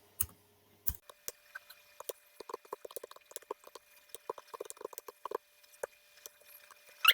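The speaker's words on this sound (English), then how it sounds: "let me just type something like create" Keys tapped on a computer keyboard while entering an AI prompt, a quick irregular run of light clicks and clacks, close and alone with no talking.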